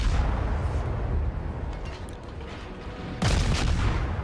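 A US destroyer, USS Smith, fires a volley from its naval guns in World of Warships, one sudden loud boom cutting through steady engine and ambient rumble near the end.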